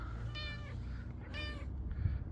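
A cat meows twice in close succession, then gives a shorter third call, each a clear tonal mew heard close by over low background rumble.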